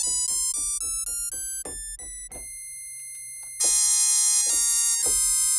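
A synthesizer patch plays a run of bright, pure, sine-like tones, first short repeated notes stepping in pitch, then a long held note and a louder high-pitched passage.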